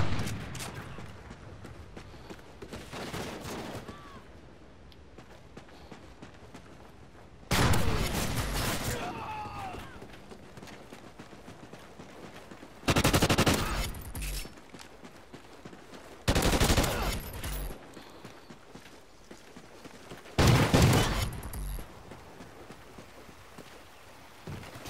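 Several loud gunfire bursts in Call of Duty Ghosts Gun Game on the Prison Break map, spaced apart with quieter background ambience and faint talk between them; the rifle type is uncertain.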